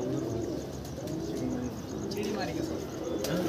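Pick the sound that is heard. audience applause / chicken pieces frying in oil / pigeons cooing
pigeons cooing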